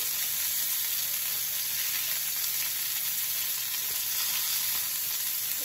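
Chicken sticks fry in oil in a pan, giving a steady, dense sizzle that holds at an even loudness throughout, close up and without talk.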